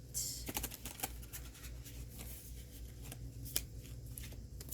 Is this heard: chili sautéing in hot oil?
no